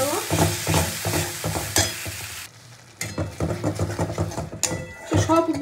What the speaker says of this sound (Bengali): তো এবার আমি দেবো টমেটো বাটা, দিয়ে এবারও ভালো করে কষিয়ে নেবো।